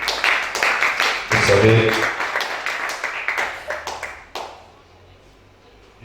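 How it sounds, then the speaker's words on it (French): An audience at a preacher's sermon claps in a burst of quick, sharp applause that thins into scattered claps and stops after about four seconds, while a voice speaks over it. "Acclamez ça."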